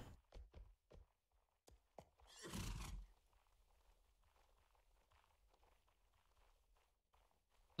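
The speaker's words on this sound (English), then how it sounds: "There's a horse over there." In the video game Mount and Blade, a horse gives one loud neigh midway, set between a few sharp hoof thuds at the start and soft rhythmic clopping of hooves that continues quietly afterward.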